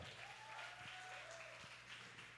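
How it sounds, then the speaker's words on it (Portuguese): An event crowd applauds the decoration team at a youth gathering, a faint, steady wash of distant clapping with a low hum and a couple of dull thumps beneath it. "Você pode aplaudir a galera da decoração?"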